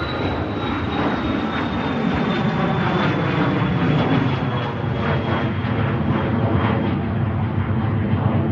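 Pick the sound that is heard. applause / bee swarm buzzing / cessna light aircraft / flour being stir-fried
cessna light aircraft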